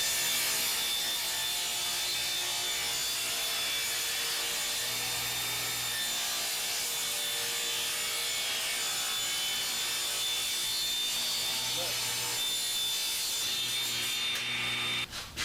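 Sawing through a 3/4 inch plywood sheet for the base of a wooden crate coffee table, a steady rasping cut that runs continuously and close for the whole stretch, with no talking.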